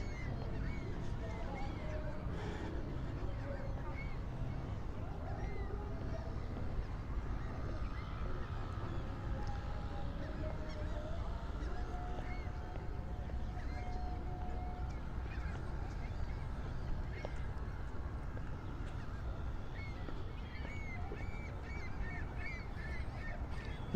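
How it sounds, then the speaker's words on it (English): Seagulls call while circling above the Coney Island boardwalk in Brooklyn by the sea, their scattered cries rising over steady crowd and wind noise with voices talking throughout. "A lot of seagulls out here circling."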